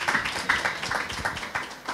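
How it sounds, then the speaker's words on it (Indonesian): An audience at a museum learning session about the Tulungagung regional museum collection applauds for a speaker, a short burst of steady group clapping heard close and continuous, with no voices over it. "Tepuk tangan untuk Bapak Eni."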